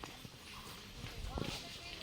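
Hooves of a bullock cart clip-clop at a resort, a few uneven close knocks under ongoing talk and background noise.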